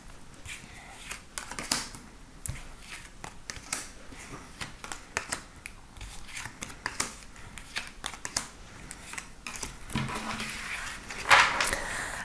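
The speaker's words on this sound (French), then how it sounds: "Donc, je vais prendre 9 cartes." Tarot cards are shuffled and drawn for a reading, producing soft irregular riffling, slaps and papery flicks close by, fairly quiet and continuous, with a light scraping burst near the end.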